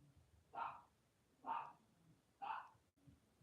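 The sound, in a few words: dog barking and growling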